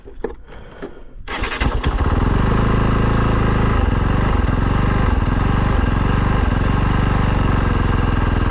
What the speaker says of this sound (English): Used to idle up and down when you would start it hot.